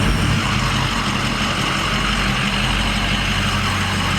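A lifted Ford F250 pickup on 20-inch wheels rumbles steadily as it pushes through bush, its low engine drone constant and close with broadband scraping noise over it, no voices.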